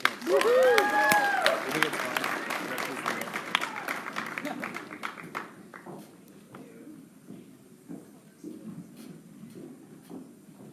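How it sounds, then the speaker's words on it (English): Audience applause at a Penn State student engagement expo talk, loud and dense at first, then thinning and fading over several seconds into scattered claps and room noise. "Let's give her a round of applause."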